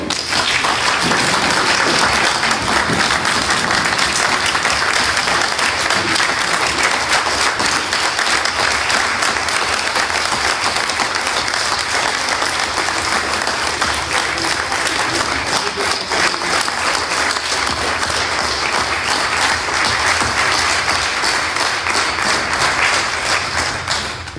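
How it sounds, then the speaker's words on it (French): Sustained, dense applause from a seated audience at the installation of a French municipal council, steady and loud throughout with no pause. "Je vous demande de les applaudir une nouvelle fois."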